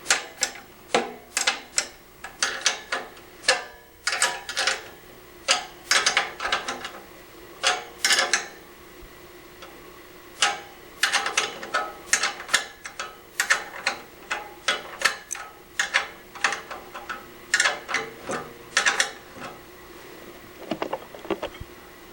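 Repeated ratcheting clicks from tightening screws while assembling a Lifetime 90114 basketball goal, sharp bursts in quick uneven runs with short pauses, close and fairly loud with no talk.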